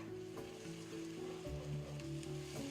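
Onion paste sizzling in a frying pan makes a soft, steady hiss with faint crackles, heard close and quiet, with some tonal hum sitting under the frying noise.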